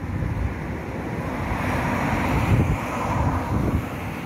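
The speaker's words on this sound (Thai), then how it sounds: "ลมก็แรงแรง" Strong outdoor wind roars and buffets steadily across the microphone, a loud continuous low rumble that swells slightly midway, with no voices.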